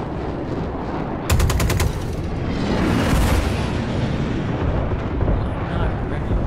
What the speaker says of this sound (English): Mostly using his Gatling.